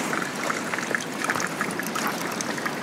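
Steady rushing water from the Yakushi waterfall at the former Kakurin-ji temple site in Nara, a continuous close hiss of flowing water with no voices over it.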